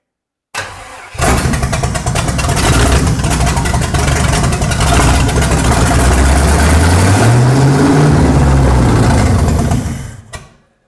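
A 1955 Buick Special engine run straight off a 4-inch header cranks, catches and roars loudly at a rough idle, revving up and down before cutting off, with nobody speaking.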